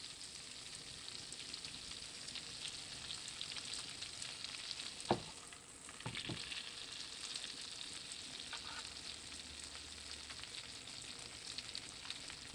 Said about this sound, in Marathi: बटर मेल्ट होईपर्यंत थांबायचं आहे